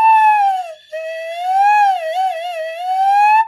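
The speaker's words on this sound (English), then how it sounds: "You can also make a slide whistle," A flute head joint blown like a slide whistle: one clear, breathy whistle tone that glides down, breaks off briefly, then wavers and bends up and down before sliding back up, played close and alone.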